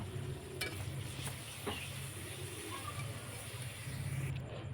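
Spice paste for a dried fish curry fries in a pan, giving a faint, steady sizzle with a few soft stirring scrapes, quiet and continuous under a low background hum.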